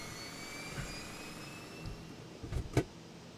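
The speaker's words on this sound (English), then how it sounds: "And start for engine 2." Engine 2 of a Phenom 300 jet spools up on start in a steady, rising whine under a hum and faint tonal lines, with a few soft clunks near the end.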